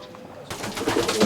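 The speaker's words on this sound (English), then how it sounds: "This is a scene inside Mick's racing section." Racing pigeons cooing and shuffling close by in an enclosed loft, soft throaty calls building over a low murmur of movement.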